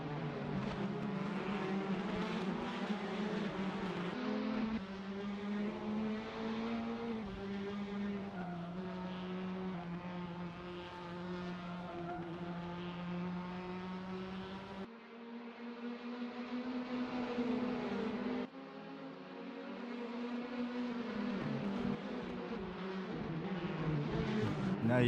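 Prototype race cars in a racing video game, including a Porsche and LMP3s, engines droning and whining steadily as they shift pitch through gears, a sustained mechanical roar with brief dips, no talking.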